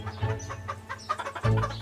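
Chickens clucking close by, a run of short throaty clucks and squawks packed together over the whole moment, with no talk.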